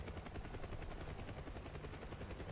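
A UH-1 helicopter in flight in the DCS video game, its rotor beating in a steady, rapid chop over a dense engine hum, continuous and faint.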